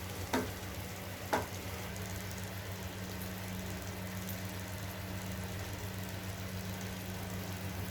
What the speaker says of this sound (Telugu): ఇలా వేసి కొంచెం ఫ్రై చేసుకోండి ఆయిల్లో.